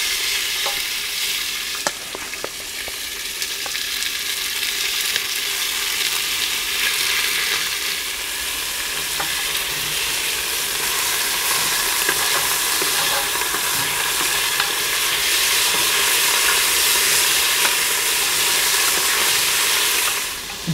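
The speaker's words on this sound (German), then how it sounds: "Dann werden wir als nächstes hier unser Gulaschfleisch nehmen und das portionsweise anbraten." Goulash meat searing in hot oil in a Dutch oven, a steady loud sizzle and crackle with occasional stirring, continuous from start to finish with no talking.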